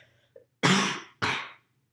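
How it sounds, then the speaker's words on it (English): Two forceful coughs close to the microphone, one right after the other with a short gap, preceded by a faint throat sound. "Let me cough."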